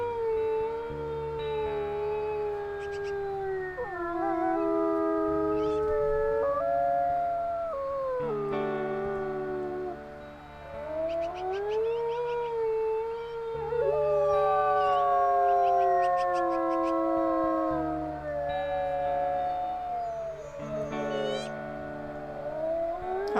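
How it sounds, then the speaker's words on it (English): Wolves howling in a video game, several long rising and falling howls overlapping in chorus, with a low droning background tone underneath throughout. "And then we can howl."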